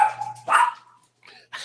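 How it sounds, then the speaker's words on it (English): Dogs bark in a short burst, a couple of sharp close barks followed after a brief pause by a fainter yip. "There goes the dogs."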